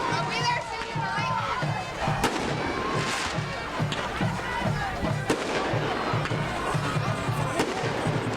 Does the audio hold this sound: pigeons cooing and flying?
no